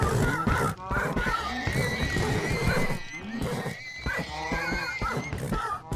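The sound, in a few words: horses neighing in Minecraft video game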